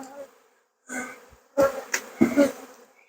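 Honey bees buzz around the entrance of a resource nuc hive, a few short bursts of close buzzing with brief quiet gaps between them.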